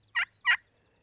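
Two sharp, raspy turkey yelps made on a pot and peg style friction call, each short and close, evenly spaced about a third of a second apart in near silence, imitating a hen turkey.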